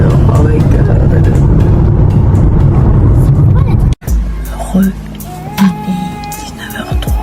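Steady low engine rumble inside a parked car while waiting in the evening, loud and continuous at first, then cutting abruptly to a quieter cabin hum with small knocks and shifting sounds; a voice talks over it.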